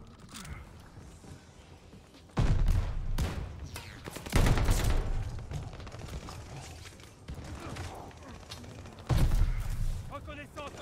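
Incendiary-round gunfire in the video game Call of Duty Vanguard, loud bursts of rapid shots in several separate volleys over quieter game background noise and mechanical clicks.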